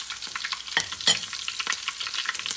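Green chilies frying in red-cooked garlic-ginger paste for moong dal tadka, a soft steady sizzle with stirring scrapes and a couple of sharper clatters, close and alone.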